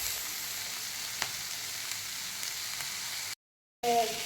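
Onions frying with salt in a pan for a potato masala, a continuous close sizzle with light stirring scrapes, cut by a brief silence before a short burst of louder sound.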